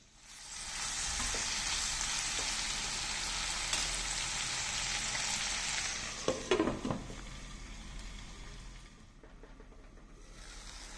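Seven or eight garlic cloves frying in a pan, a steady close sizzle for several seconds, interrupted by a few clattering stirs before the hiss quietens.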